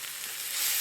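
Steady, close sizzling of roasted eggplant being stirred into a frying tomato mixture for begun bharta, a continuous bright hiss that swells slightly toward the end, with no voices.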